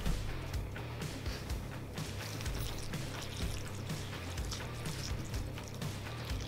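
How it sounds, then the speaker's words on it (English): Milk being poured into a bowl of Cap'n Crunch Halloween cereal, a soft continuous liquid pour with gurgling and light crackling, fairly close and steady, no talking. "we're gonna start pouring some milk"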